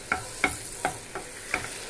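Butter melts in a pan for butter garlic mushrooms with a soft, steady sizzle. A handful of crisp utensil taps against the pan stand out at uneven intervals, near and moderately quiet, with no talking.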